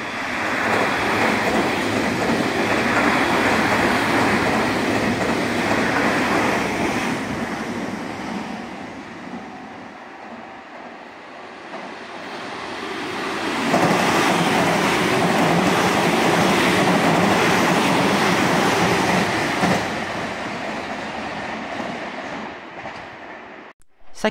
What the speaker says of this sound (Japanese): お、ちょうど本線がやってきました。